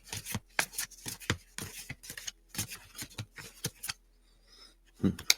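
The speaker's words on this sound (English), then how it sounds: "And let's pull the cards." Tarot cards are shuffled and pulled in a quiet room, a run of quick, crisp riffling and slapping bursts in an uneven rhythm, close and fairly soft, followed by a short pause and a final card snap.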